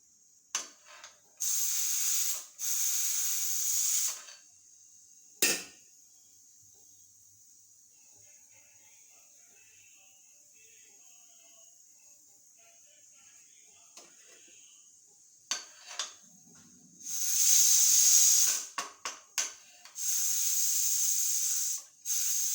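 A pressure cooker releases steam in several sharp, loud hissing bursts, separated by long quiet stretches.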